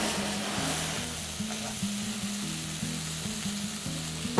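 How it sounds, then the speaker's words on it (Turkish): Beef for stroganoff sizzles in a hot pan while it sautés and releases its juices, a steady close hiss under a low repeating background hum. "Et suyunu verene kadar biraz kavuruyoruz"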